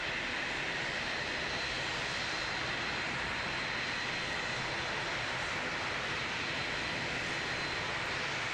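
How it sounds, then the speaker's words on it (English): An Airbus A320 takes off at Christchurch Airport with a loud, continuous jet roar. The engine noise holds steady and dominant the whole way, with no talking. "Here's our A320 off to Queenstown."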